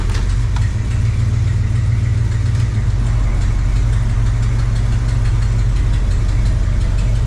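A square-body dually truck engine idles steadily and fairly loud after a tune-up, with a constant low rumble and no talking over it.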